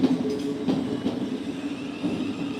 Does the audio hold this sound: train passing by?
yes